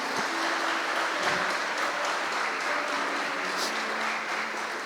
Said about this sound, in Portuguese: Você pode aplaudir Jesus, meus irmãos?